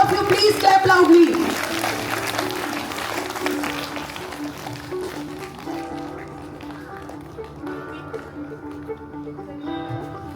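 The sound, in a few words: audience applauding at school award ceremony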